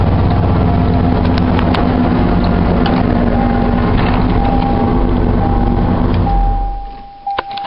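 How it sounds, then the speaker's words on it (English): A 1989 Ford F-150 pickup truck's engine runs loud and steady close by with a constant rumble, then cuts off near the end, leaving a quieter tail. "Shut it off before I die from exhaust fumes."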